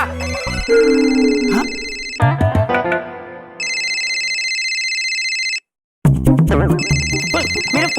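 A mobile phone ringtone plays in repeated loud, steady electronic bursts, broken by short gaps and brief silence, while people speak and other sounds mix in around it in an indoor comedy scene.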